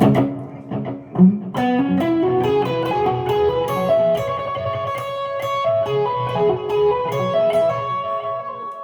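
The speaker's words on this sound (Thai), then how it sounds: "ใส่ดีเลย์หน่อยนะครับ" Electric guitar run through a Boss ME-80 multi-effects unit and a Maxkie Cabsim pedal with delay, playing a steady melodic line whose notes echo and overlap, loud and close with no talking.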